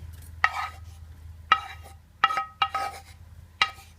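Stir-fried vegetables go into a pot for vegetarian baked taro rice, marked by five sharp utensil clinks and short scraping stirs over a quiet background, with no talking.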